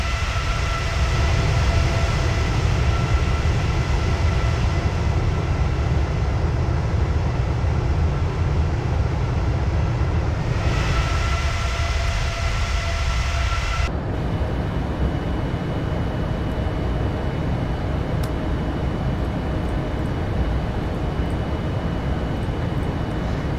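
Boeing 787-9 engines in the FSX flight simulator give a continuous, loud, broadband cockpit rumble and roar with steady tonal hums, changing character partway through as the cabin mix shifts, with no speech.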